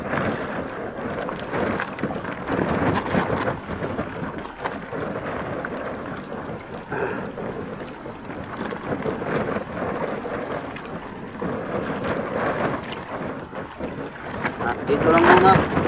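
Storm at sea heard from aboard a fishing boat: heavy rain and wind roar continuously with rumbling gusts and water splashing, loud and close, with voices partly heard under the noise.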